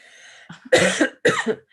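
A person coughs twice in quick succession, close and fairly loud, after a faint breathy lead-in.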